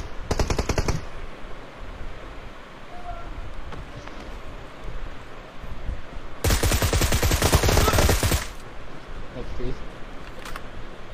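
Bursts of automatic gunfire in the battle royale video game BGMI, a loud rapid volley at the start and a longer sustained burst midway, over steady background game ambience with brief talk nearby.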